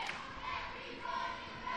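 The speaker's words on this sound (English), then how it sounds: "Every fan in here is excited. Most of them are standing up, cheering their teams on." Fans at a girls' high school basketball game standing and cheering, a steady, dense crowd roar filling the gym from start to finish without breaks.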